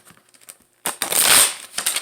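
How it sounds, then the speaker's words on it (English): Tarot cards being shuffled by hand in a short burst of papery riffling, with faint card handling before a louder, denser shuffle near the middle. "All I'm doing is shuffling."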